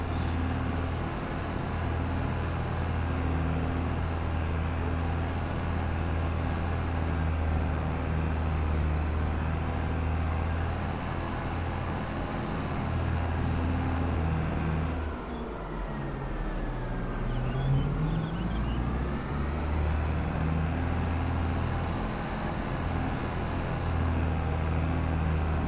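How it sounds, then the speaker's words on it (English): Tractor of over 400 horsepower in Farming Simulator 25 droning continuously as it labors up a hill, a steady low engine hum with a brief dip and shift in tone midway. "Or even with 400 and whatever horsepower, it's struggling up this hill."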